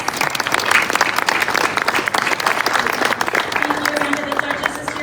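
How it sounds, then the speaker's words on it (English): Dense, sustained applause from a large audience for winners at a contractor awards ceremony, loud and continuous throughout with no pauses. "Let's give all the winners one more big round of applause."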